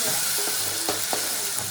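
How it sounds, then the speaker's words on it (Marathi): Spices tempering in hot oil for a dal crackle and sizzle loudly and steadily up close, with a few sharp pops and scrapes of stirring breaking through the hiss. "फोडणी देतो"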